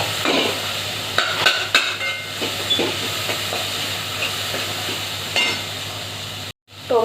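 Tomatoes go into a hot frying pan with soaked sprouted moong beans for a Marathi usal, giving a steady sizzling hiss with scraping stirs and occasional clatters of the spoon, close and continuous.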